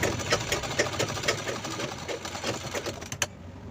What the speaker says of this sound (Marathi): लॉक स्टिच शिलाई लावायची आहे.